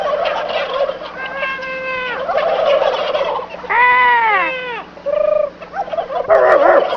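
Several turkeys gobbling nearby in rapid, warbling bursts, overlapping one another with brief pauses between calls.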